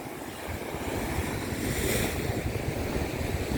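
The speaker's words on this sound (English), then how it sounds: "Look at the way the waves are rolling along next to the wall" Sea waves and surf roll along a harbour wall on the Paignton esplanade in Devon, a continuous loud wash of breaking water with gusty wind buffeting the microphone.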